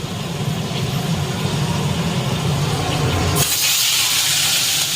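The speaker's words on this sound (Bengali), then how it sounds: "চিংড়ি মাছটা ভাজতে বসলাম" Prawns frying in a pan fill the space with a loud, steady roaring hiss. Partway through, the low rumble drops away and a brighter, sharper sizzle takes over.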